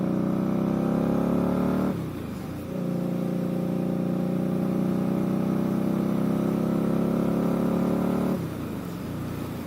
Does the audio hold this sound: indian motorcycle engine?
yes